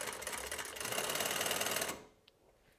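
A small portable sewing machine stitches in a steady, fast whir for about two seconds, close and loud, then stops abruptly, leaving near silence with a couple of faint clicks.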